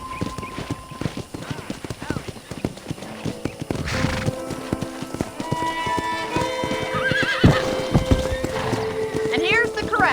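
Horses in the Red Dead Redemption game, remastered, at a ranch corral: steady clip-clop of hooves and several loud neighs and whinnies, with talk running over much of it and game music and ambience behind.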